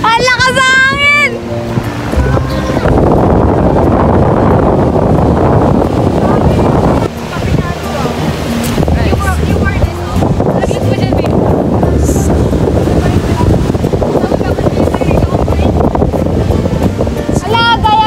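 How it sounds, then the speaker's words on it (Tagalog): Loud, constant wind at a beach buffeting the microphone in a roaring rush, with voices and shouts breaking through now and then. "Ang lakas ng hangin!"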